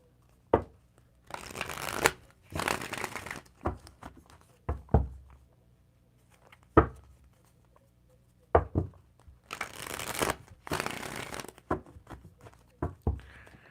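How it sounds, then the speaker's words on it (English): Tarot cards shuffled by hand in several close, crisp bursts of riffling, separated by softer taps, slides and card handling, with no talking. "Let's give a quick shuffle."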